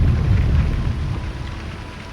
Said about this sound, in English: This thunderstorm is peak danger.